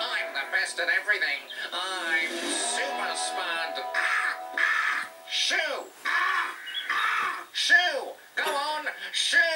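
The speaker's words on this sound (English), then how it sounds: "Spud can't get rid of the crow." A crow cawing in an animated Bob the Builder episode: several harsh, descending caws in short bursts toward the end, mixed with lively talking voices throughout.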